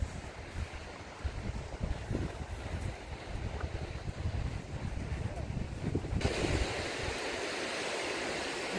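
Black Sea surf washes onto the shore at Chornomorsk, a steady broad rush of waves mixed with gusting wind buffeting the microphone, heard alone without speech.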